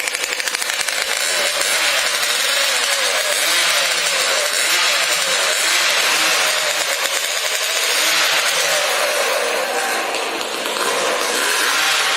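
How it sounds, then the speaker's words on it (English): Several racing chainsaws at a STIHL Timbersports pro competition rev continuously and loudly as they warm up. The overlapping high-pitched engine whine is sustained, with surging pitch and no pauses. "Warm up your saws."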